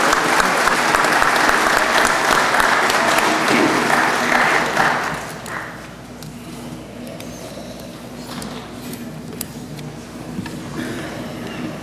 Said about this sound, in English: How about another round of applause for Class 240